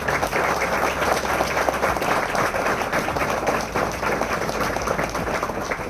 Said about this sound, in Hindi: पवित्र आत्मा के लिए जोर से ताली बजाएंगे हम लोग।